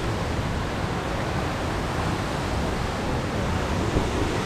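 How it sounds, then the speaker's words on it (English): Steady, broadband rushing roar of a waterfall near a river in Costa Rica, constant and close with no breaks and no voices. "I was stopping to record because the waterfall looks awesome."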